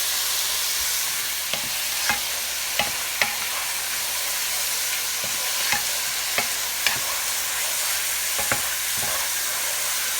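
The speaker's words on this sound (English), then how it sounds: "now I'm going to put in some ginger and garlic. And cook that for a few minutes so the tomatoes get nice and mushy." Ginger, garlic and tomatoes fry in a pan for a shrimp biryani sauce, giving a steady close hiss of sizzling broken by occasional clacks of a utensil stirring, with no voices.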